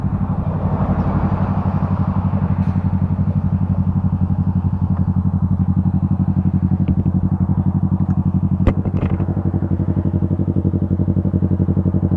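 A Yamaha XMAX 300 scooter and a Honda CBR250RR motorcycle in an acceleration test: a loud, close, steady engine drone with a fast pulsing beat that holds throughout, plus a few faint clicks and one sharp tick.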